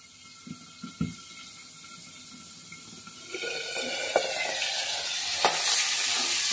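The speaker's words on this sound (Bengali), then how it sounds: "দেখো এইভাবে মাছটাকে ভেজে নেব" Tangra fish fry in hot oil in a covered pan, a faint crackle with a few early pops that swells into a steady, louder sizzle with sharp spits near the end, no voices.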